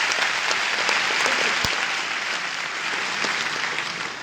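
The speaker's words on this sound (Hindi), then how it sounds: "2000 तालियां बजनी थी।" Audience in a hall at a Varanasi celebration event applauds steadily, a dense, even sheet of clapping from many hands that fills the whole stretch and fades slightly toward the end.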